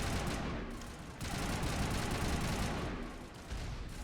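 Dense, continuous weapons gunfire in the video game Mass Effect, a rapid crackling barrage of overlapping shots heard fairly faintly, with no speech.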